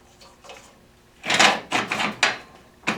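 Table extension on a Shopsmith bandsaw being pulled in and out, producing several close scraping, sliding knocks in an uneven rhythm, with faint rubbing before a louder run of bursts; no one talks.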